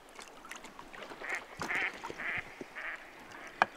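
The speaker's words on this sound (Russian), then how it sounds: "Утки тут всякие крякают, бегают, прыгают, летают." Ducks on a river quack in a short run of nasal calls at moderate distance, spaced roughly half a second apart, over faint rustling and one sharp knock near the end.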